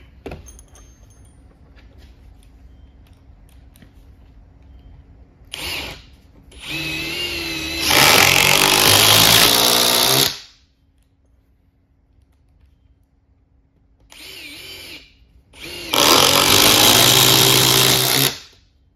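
Metabo HPT and Ridgid impact drivers running, a brief whir then two loud sustained bursts of motor and rapid hammering, separated by quiet, with the pattern repeated twice and close up.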